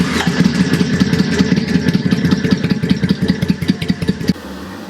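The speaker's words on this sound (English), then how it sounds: "So what I'm going to do is I'm going to run the bike just real quick." A Triumph America motorcycle engine runs close by at a quick idle, its rhythmic, loping exhaust pulses loud and clattery before it cuts off near the end.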